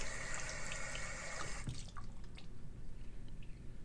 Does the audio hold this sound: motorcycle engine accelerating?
no